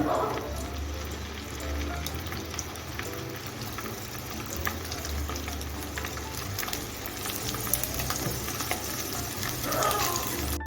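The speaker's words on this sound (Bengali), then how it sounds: "আমি একটা ননস্টিক কড়াইতে সাদা তেল দিয়ে গরম করে নিয়েছি এখন আমি পনিরগুলি ভেজে নিব দিয়ে দিচ্ছি" Paneer pieces frying in white oil in a nonstick pan, a steady close sizzle and crackle with occasional pops and faint stirring, continuing throughout without talk.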